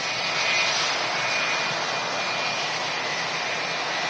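A 26-year-old Jet2 passenger jet arriving at Manchester Airport from Ibiza gives a loud, steady roar of jet engines with a broad hiss and a faint whine, heard alone.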